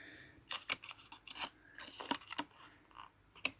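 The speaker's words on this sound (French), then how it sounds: "je tourne mes ciseaux" Scissors snip through paper while a greeting card is cut out, giving a series of short, quiet, crisp cuts and rustles at an uneven pace, with no voices.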